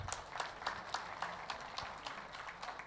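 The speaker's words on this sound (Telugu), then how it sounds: "నిరంతరంగా గొప్పగా జరిగిన కార్యక్రమాలకు ఒక్కసారి చప్పట్లు కొట్టుకుందాం" An audience at a 2021 Shivaratri event claps together in a steady, rhythmic beat, heard fairly soft and at a distance.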